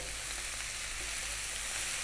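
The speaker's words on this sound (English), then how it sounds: "we're going to go now for about another 4 or 5 minutes frying this rice" Constant crackling sizzle of cold, cooked basmati rice frying in a hot pan, steady and close, with no voices.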